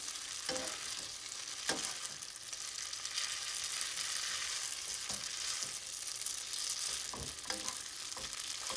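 About eight tablespoons of butter sizzle over low heat while being mixed with linguine, a soft, steady frying hiss punctuated by scattered clicks and scrapes of a utensil against the pan, fairly quiet and without speech.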